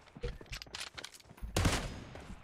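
Gunfire in PUBG Mobile: a muffled patter of rapid shots, then a louder, denser burst in the second half. The shots sound moderately close and there is no clear speech.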